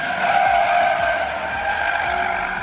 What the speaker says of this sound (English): a rather nice-sounding V6 engine